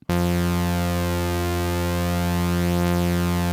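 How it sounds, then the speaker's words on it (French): Steady tones from Cherry Audio's Surrealistic MG-1 Plus software synthesizer drone continuously, their oscillator harmonics slowly sweeping against each other in a shimmering phasing effect. "on entend bien l'effet de phase"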